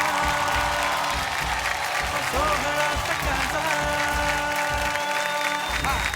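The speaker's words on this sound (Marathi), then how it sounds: "एकदा जोरदार टाळ्या झाल्या पाहिजेत." A studio audience on a Marathi television show claps loudly and continuously, with a sustained roar of hands under background music and a voice speaking over it.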